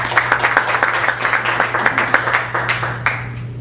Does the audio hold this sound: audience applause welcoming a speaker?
yes